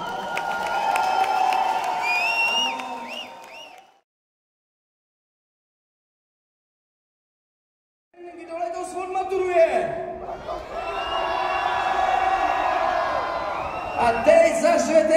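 A crowd at a Czech school graduation ball in Děčín erupts in applause, cheering and whoops for the graduates, loud and sustained, breaking off into silence for several seconds before the roar returns with shouting voices.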